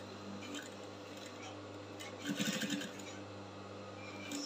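Sewing machine stitching fabric for a keyhole illusion yoke, including a backstitch: a brief burst of rapid mechanical stitching in the middle of a steady hum, with faint clatter around it.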